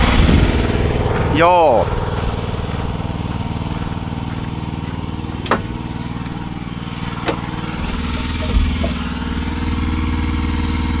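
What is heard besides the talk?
log splitter engine struggling to start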